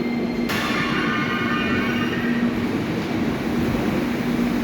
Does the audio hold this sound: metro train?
yes